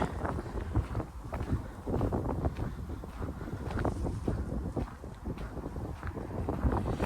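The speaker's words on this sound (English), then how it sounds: "It's extremely, extremely windy in here." Strong wind roars steadily through a graffiti-covered tunnel, buffeting the microphone with constant low rumbling gusts for the whole stretch, loud and unbroken with no voices.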